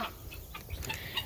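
Guinea fowl are let out in the morning on a small farm, giving faint, scattered clucking calls at a distance.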